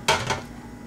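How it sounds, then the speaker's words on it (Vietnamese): A brief, close clatter of utensils in a bowl as lotus stems are tossed into a jellyfish salad, one sharp clink followed by a softer second knock and a fading rustle. "lấy phần sen chúng ta trộn vào"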